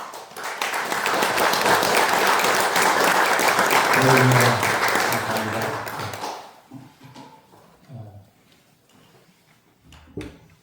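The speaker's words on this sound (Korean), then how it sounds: "목사님 나오실 때 힘찬 박수로 환영해 주시기 바랍니다." Elders at a regional church retreat worship service give a pastor a loud, sustained welcome applause for about six seconds, which then fades into scattered claps, room noise and a few murmured voices.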